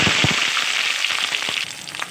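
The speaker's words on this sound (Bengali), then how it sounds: "এবার এই মাছের ডিমটা উল্টে পাল্টে খুব ভালোভাবে ভেজে নেব" Fish roe frying in mustard oil in a kadai over a gas stove, a loud steady sizzle with sharp popping crackles scattered throughout, close and continuous.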